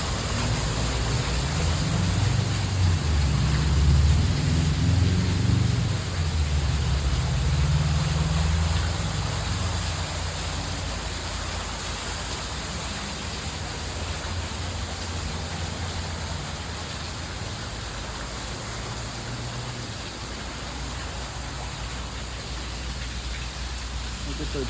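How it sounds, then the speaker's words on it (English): Water runs and sprinkles steadily through a rainforest plant nursery, a constant hissing wash like rain on foliage, close and even throughout with a low rumble early on. "Sound of the water."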